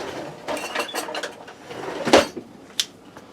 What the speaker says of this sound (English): Let me grab a pair of tongs.